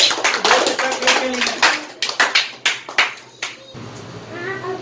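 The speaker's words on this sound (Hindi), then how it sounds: "दर्शक इनको तालियों से स्वागत करेंगे।" Audience clapping greets a contestant on a Hindi quiz show, a run of sharp, close bursts of applause that thin into a few separate claps before a quieter, hollow room tone takes over.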